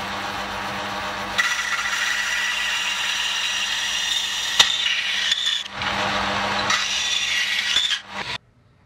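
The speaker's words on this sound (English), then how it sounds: "cut this aluminum bar stock, which I have right here, to size. And for that I'm gonna use the bandsaw over there." Bandsaw cutting through aluminum bar stock in a workshop, a loud steady whining blade with a brief pause midway and a sharp tick, then a second run that winds down and stops.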